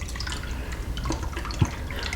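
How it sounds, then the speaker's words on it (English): Hydrogen peroxide trickles into a bucket of water holding a skull, giving soft, faint splashes and drips over a quiet background, with one slightly louder plop near the end. "add my peroxide to this."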